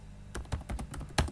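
Close, crisp clicks of typing on a computer keyboard, several quick keystrokes in an uneven rhythm with no talking.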